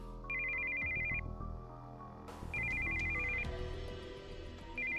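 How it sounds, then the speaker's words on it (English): A cell phone ringtone in Steins;Gate 0 rings in bursts of high trilling tone that come back after short gaps. It plays over continuous background music, fairly loud, with no talking. "We heard the sound of an incoming call on a cell phone."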